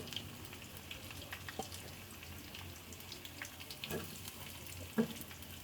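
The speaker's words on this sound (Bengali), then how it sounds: "বাগারের জন্য এখানে আমি পেঁয়াজ আর রসুন দিয়ে দিয়েছি" Onion and garlic fry gently in oil as a tempering for cooked greens, a faint, even sizzle with a few scattered pops and clicks.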